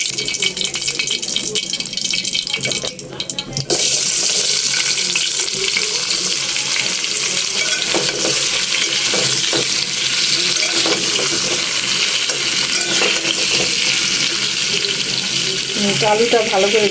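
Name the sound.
frying potatoes in a pan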